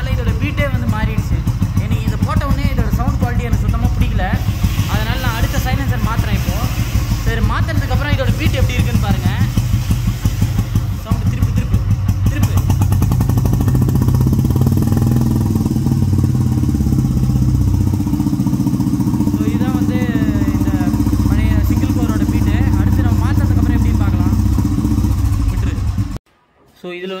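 A Royal Enfield Bullet Electra 5S engine fitted with a short core silencer thumps steadily and loudly up close throughout, with its beat shifting character partway through before cutting off abruptly at the end.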